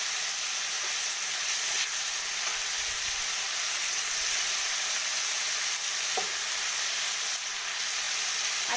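Chopped green chilies frying in a pan, a loud, steady hiss of sizzling oil that runs unbroken throughout, with a couple of faint stirring knocks and no speech.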